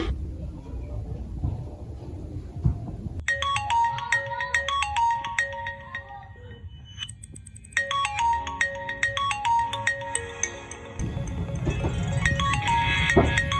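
A mobile phone plays a melodic ringtone that loops in bright repeating phrases, loud and close, over a low rumbling background that swells near the end.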